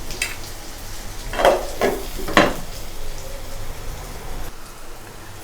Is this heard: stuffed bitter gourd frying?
yes